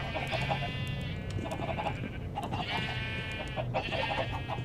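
Clucking chickens in the Minecraft video game, with repeated short bursts of farmyard clucks coming and going over a steady ambient bed, no talking.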